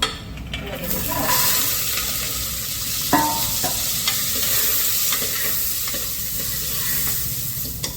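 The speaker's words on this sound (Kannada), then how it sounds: "ಫಸ್ಟೇ ಒಗ್ಗರಣೆ ನೀವು ಹಾಕೊಂಡ್ಬಿಡ್ಬೇಕು" Tempering frying in hot oil for a fresh field bean (avarekalu) curry, a strong, continuous sizzle with stirring scrapes and a few clinks, close and loud throughout.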